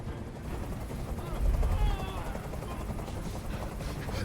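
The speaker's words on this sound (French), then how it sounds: "Fais dégager cet hélicoptère, maintenant." A steady, heavy mechanical rumble of helicopter rotors fills the whole stretch, loud and continuous, with a faint voice buried beneath it.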